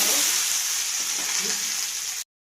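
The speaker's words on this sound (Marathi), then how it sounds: "आता मी त्या तेल गरम होण्यासाठी ठेवले, त्याच्यामध्ये भेंडी फ्राय करणार" Sliced okra (bhindi) fries in hot oil in a pan with a steady, dense sizzle that carries on evenly before cutting off abruptly.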